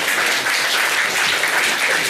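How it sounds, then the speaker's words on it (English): Steady audience clapping at a Stewart Lee stand-up comedy show, a dense, even patter of many hands that holds at full level for the whole stretch with no voices over it. "That's never had a clap before"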